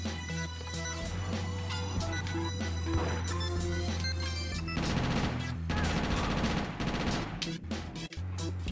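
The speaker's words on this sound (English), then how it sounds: "I'm just gonna shoot at him." Gunfire from the open-world crime game GTA: Chinatown Wars, dense bursts of shots layered over a loud game music track, intensifying in a rapid volley through the second half.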